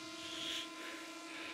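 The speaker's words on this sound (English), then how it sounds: "The drone's in the air." A drone in the air over a wild camping spot on Dollar Law at night, giving a steady, faint, distant rotor whine with no other sounds.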